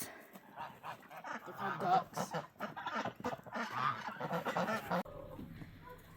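Geese honking in a snowy winter farmyard at feeding time, a cluster of loud, overlapping nasal calls that fill the first five seconds and then cut off, leaving quieter background sound.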